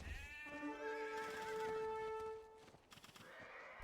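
A horse unit in Age of Empires 2 gives a loud, clear neigh lasting over two seconds, followed by short game impact and hoof sounds as it is killed.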